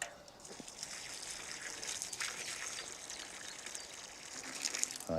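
Water runs over a blackberry plant in a garden, a soft steady trickle and splash, quiet and close, with a brief louder gush near the end.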